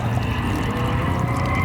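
Garden hose water pouring steadily at close range at a car show, a continuous broadband splashing rush with no speech over it.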